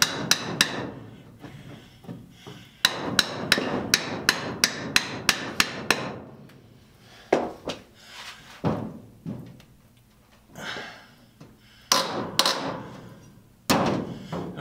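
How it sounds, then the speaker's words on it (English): Crowbar prying trim off a barn door in a bathroom: loud, sharp close-up strikes and cracks in rapid bursts, then scattered thuds and creaks with short pauses between. "sometimes you just got to go after it with a crowbar"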